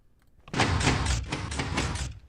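Door opening in Minecraft: a single scraping, rattling swing lasting over a second, close and fairly loud, after a brief quiet start.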